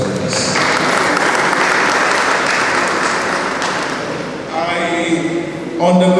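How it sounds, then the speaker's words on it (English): Sustained applause fills the hall at the 22nd annual general meeting of OOU-AS-CMS Ltd, loud and steady for several seconds before it thins and voices come through near the end. "Another round of applause for this."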